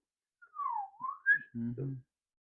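Someone whistles a short rising-and-falling tune imitating a whistle pop candy whistle, faint and close, followed by a brief voiced sound.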